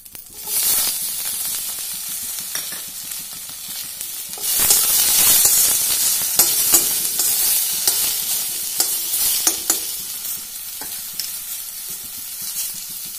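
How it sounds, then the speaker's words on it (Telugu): Tomato pieces are added to brinjal frying in a pan, a loud hissing sizzle that swells after a few seconds and crackles steadily with scraping stirs, close up and without talk. "ఇప్పుడు టమాటా ముక్కలు కూడా వేసేసుకుందాము"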